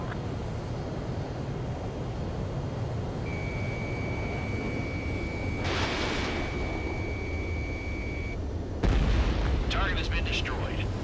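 Near the end, a heavy explosion destroys a target in the flight combat game Ace Combat 7. Steady jet engine rumble and a long warning tone run beneath radio voices throughout.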